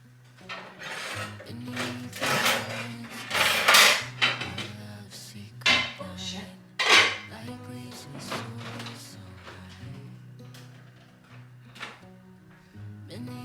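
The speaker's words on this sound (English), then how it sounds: "Let's get the slow cooker out." A slow cooker being pulled out of a cupboard and handled, with scattered clunks, knocks and rattles of ceramic and metal at irregular intervals, loud up close then fading to quieter handling.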